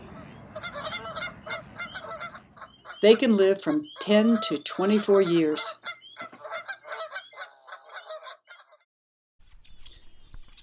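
Canada geese honking in a winter wetland of the Sacramento Valley, a burst of loud overlapping honks mid-stretch with scattered calls before and after, while someone narrates over them.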